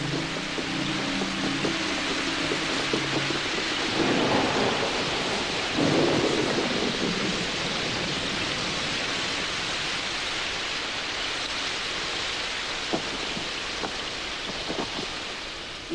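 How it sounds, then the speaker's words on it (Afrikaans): Heavy thunderstorm with steady rain pouring down, low rolling thunder swelling around the middle, constant loud hiss throughout and a few sharp cracks near the end. "Jy's reg, dit reën."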